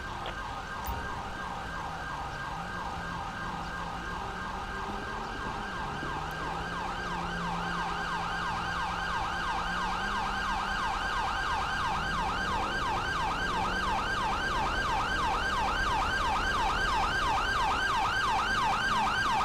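A wailing ambulance siren from the GTA 5 video game at a fire scene, sweeping steadily and continuously for the whole stretch, growing slightly louder toward the end with a low engine hum beneath.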